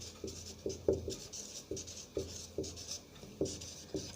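A pen scratches across paper as a notice is handwritten, giving soft, close strokes with small taps, in an uneven rhythm of short marks.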